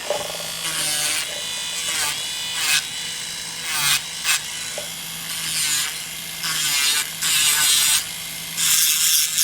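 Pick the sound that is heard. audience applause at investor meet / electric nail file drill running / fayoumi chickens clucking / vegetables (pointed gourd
electric nail file drill running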